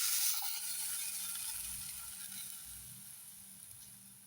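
Tamarind fish curry with tomato coming to a boil in a pot, a soft continuous sizzle and gentle bubbling, fairly quiet and close, with no voices.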